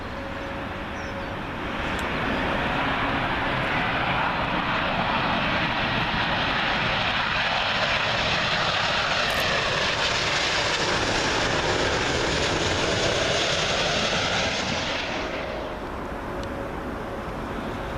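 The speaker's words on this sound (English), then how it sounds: "Next up, British Airways 777. This one coming in from Toronto, Canada." A British Airways Boeing 777 inbound from Toronto lands on Heathrow runway 27L, its jet roar swelling loudly after a couple of seconds, holding close and heavy overhead, then fading away near the end.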